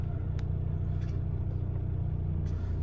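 A Mercedes W204 C300 idling in drive with worn motor mounts, giving a steady low droning rumble and a few faint clicks, heard from inside the cabin with no talk.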